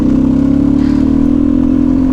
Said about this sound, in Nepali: उहाँले चाहिँ एउटा बाइक चलाइरहनु भएको छ